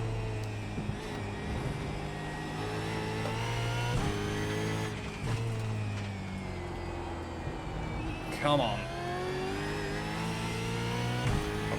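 Australian Supercar engines race around Brands Hatch in the iRacing sim, a steady loud drone with repeated revs rising and dropping through gear changes, a brief whoosh of passing traffic, and a driver speaking briefly over it.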